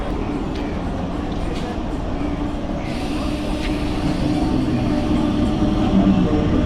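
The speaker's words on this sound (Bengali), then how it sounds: "তো এই ঢুকে গেল আমার লোকাল ট্রেন।" A local train pulls into Durgapur station, a loud, steady low rumble and rolling clatter that swells slightly toward the end, with platform noise and possible voices mixed in.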